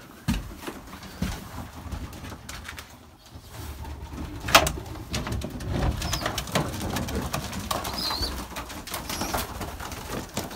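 Pigeons coo softly amid rustling and shuffling in freezing weather at feeding time, with a sharp knock partway through and scattered bird sounds nearby.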